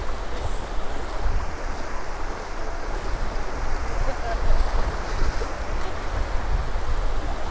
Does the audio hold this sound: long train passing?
no